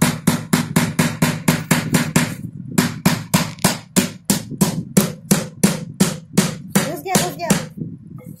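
Thin nails hammered into 6 mm plywood cut pieces, loud close hammer blows in a rapid, steady rhythm of about three per second with one brief pause, ending with a few lighter taps.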